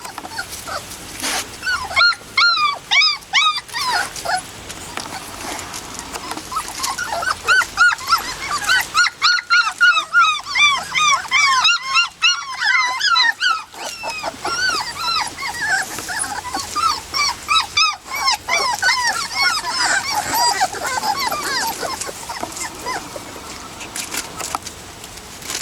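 A litter of puppies whimpers and yips in a kennel, with rapid high-pitched cries repeating close by nearly nonstop, interrupted by brief quiet gaps and occasional bark-like yips.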